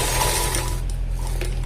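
A sewing machine stitching the back pocket of pants gives a brief close whir with mechanical clicking that quickly fades into a low steady hum.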